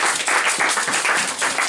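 An audience applauds at a church teaching gathering, a dense and steady wash of clapping that holds at full volume throughout, with no voices over it.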